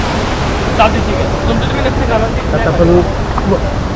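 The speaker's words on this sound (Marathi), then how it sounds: "ह्या धबधब्याला शेरपे नापने धबधबा असं म्हणतात" The perennial Sherpe-Napne waterfall in Vaibhavwadi taluka, Konkan, pours in a loud, steady broadband roar, with voices talking over the rushing water.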